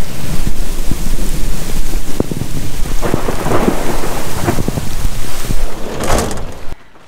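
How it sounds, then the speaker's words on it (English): Heavy rain pours down in a loud, continuous hiss while thunder cracks and rumbles close overhead in repeated bursts during a storm; nobody speaks. "Heavy rain, heavy thunder. It's really above me."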